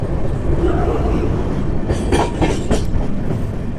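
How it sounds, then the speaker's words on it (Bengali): An Amrit Bharat Express train rolls across the Farakka Barrage, a steady loud rumble of wheels on rail with a burst of clickety-clack beats near the middle, heard from on board. "নতুন ট্রেনে করে এই ফারাক্কা ব্যারেজ অতিক্রম করার মজাটাই"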